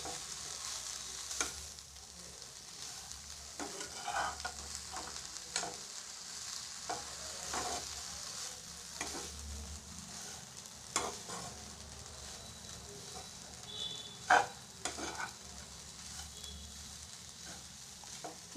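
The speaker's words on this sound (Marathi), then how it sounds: "छान असं फिरवून घ्यायचं आणि खूप जास्ती वेळ सांबाराला नाही होऊ द्यायचं" Sambar vadi filling fries in a pan over low heat, a faint steady sizzle broken by repeated scraping stirs of a spoon against the pan, close up with no talk.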